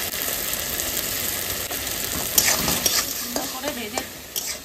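Black mustard seeds, salt and turmeric fry in a hot pan while being stirred: a steady, close sizzle runs throughout, with scraping stirs picking up toward the end and no talking.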